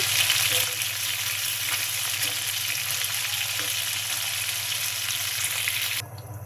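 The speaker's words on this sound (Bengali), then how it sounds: "চাল কুমড়োর বড়ি ভেজে নিচ্ছি।" Ash gourd lentil dumplings (bori) fry in oil with a loud, steady, close sizzle that runs without pause, then drops sharply quieter for the final half second.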